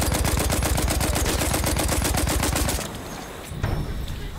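Hewitt automatic rifle in Battlefield 1 firing a loud, rapid rhythmic burst of shots for nearly three seconds, then stopping, leaving battlefield ambience with a faint distant report.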